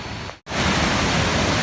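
Huai Suwat waterfall rushes in a loud, steady roar, viewed from the top of the falls; a brief dip near the start then a constant broadband wash of falling water with no voices.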